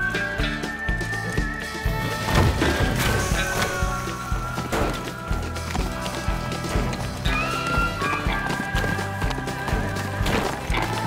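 Horses galloping in the Teardown game on PS5, a continuous rhythmic clip-clop of hooves with occasional whinnies, layered over background game music at a steady, fairly loud level.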